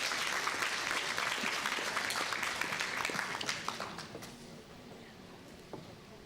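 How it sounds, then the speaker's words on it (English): Applause from a school honours day audience, a dense steady patter of many hands that thins and fades over the last couple of seconds. "Let's give them a big round of applause"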